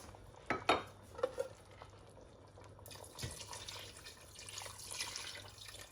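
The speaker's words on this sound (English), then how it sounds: "And then I'm going to add just a little bit of water." Water poured into a pot of Nigerian oha soup, giving a brief splash and trickle amid light clinks of the pot and utensils, fairly quiet with no talk.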